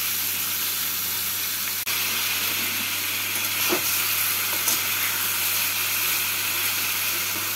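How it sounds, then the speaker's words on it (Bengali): Salted, squeezed ridge gourd fries with potatoes in a pan, making a continuous even hiss and sizzle close by, broken by a couple of small clicks and no voices. "ঝিঙেগুলোকে আলুর সাথে 2 মিনিট মতো ভেজে নিলাম"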